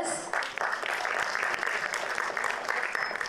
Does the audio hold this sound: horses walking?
no